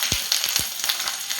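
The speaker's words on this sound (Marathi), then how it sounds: "मी या पापड्या तळून देते आता." Sabudana papad fry in hot oil in a home kitchen, giving a steady bright crackling sizzle with a few soft bumps, moderately loud and without voices.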